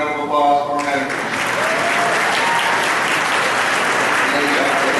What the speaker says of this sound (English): Please give a round of applause for our managers.